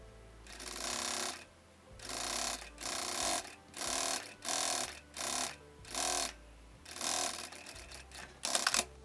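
A sewing machine stitches along the edge of striped fabric strips in repeated bursts of fast, close, mechanical whirring. Each run lasts about a second and is separated by brief pauses.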